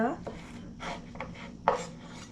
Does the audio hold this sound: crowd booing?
no